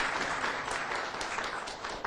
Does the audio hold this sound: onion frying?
no